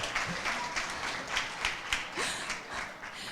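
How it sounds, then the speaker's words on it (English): A modest crowd at a live storytelling show claps briefly, the applause fairly soft and uneven with scattered distinct hand claps rising and falling over a few seconds. "I just want some clapping if this is your first Yarn show."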